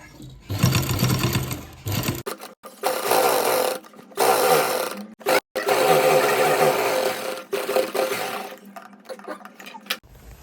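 A sewing machine stitches along a shirt collar in several close, loud bursts of rapid whirring, broken by short pauses as the fabric is repositioned.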